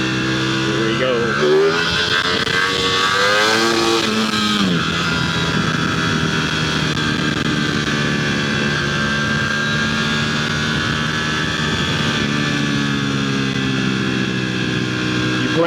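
Motorcycle engine in party mode revving up and settling into a loud, sustained drone, with rising pitch sweeps early on and a steady close-up roar, while someone talks over it.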